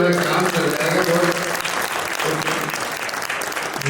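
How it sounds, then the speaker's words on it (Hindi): A live audience applauds steadily for a stage performer, a dense wash of clapping at fairly even loudness, with voices talking and calling out beneath it. "एक बार थोड़ी सी तालियां बजा दीजिए तो मेरा काम चल जाएगा।"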